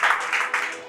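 Guests at a wedding applaud during the cake cutting with a brief, fairly loud wash of clapping that swells in a few pulses and then begins to fade.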